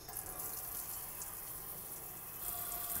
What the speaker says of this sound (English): Cold water.